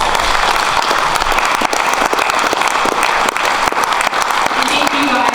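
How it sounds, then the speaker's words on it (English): Audience at a county legislature candidates' forum gives a steady round of applause, dense continuous clapping in a room, loud throughout. "I think that these candidates deserve a round of applause."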